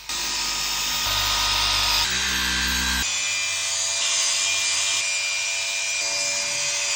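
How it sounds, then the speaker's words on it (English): A handheld mini polisher works over car paint, its motor whirring steadily with shifts in pitch and load as the pad moves across the panel, close and fairly loud. "we're going to move on to the mini polisher."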